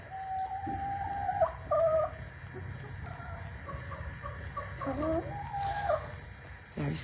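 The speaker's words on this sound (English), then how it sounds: "There's my ladies. Can you hear them?" Hens cluck and call in a farm stall, a close, irregular run of clucks and short rising squawks over a low background hum, with a brief rooster-like call near the end.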